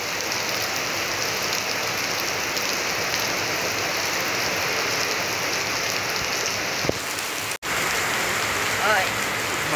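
Heavy rain pours down without pause into a filling swimming pool, a loud, dense, even hiss that cuts out for a moment near the end before carrying on.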